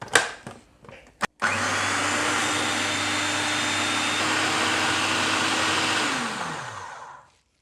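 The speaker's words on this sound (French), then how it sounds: "il ne reste plus qu'à mixer l'ensemble pour obtenir la consistance finale." Blender mixing a vegetarian tarama spread, starting with a few short clicks and knocks, then a steady loud whirring drone for about six seconds before spinning down to silence.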